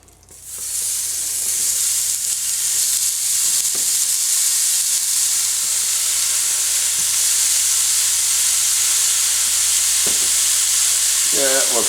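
Beef strips hit a hot pan for a pepper steak stir fry and set off a loud, continuous sizzle and hiss that holds steady, with a few soft stirring scrapes and no talking.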